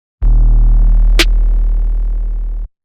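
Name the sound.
layered snare drum sample in a mix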